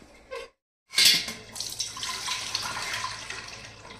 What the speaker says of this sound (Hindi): अभी मैंने जो ये पानी उबाला था ना, इसको मैं छानूंगी